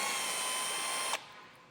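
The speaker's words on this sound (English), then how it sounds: "And we will have one more bolt we'll have to take out here. And to do that, I'm just using a Torx bit." A power tool with a Torx bit backs a bolt out near the front fascia of a 2021 Jeep Cherokee. A steady whir runs for about a second and then cuts off abruptly, leaving quiet.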